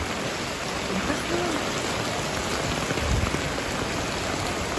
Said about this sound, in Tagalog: grabe ulan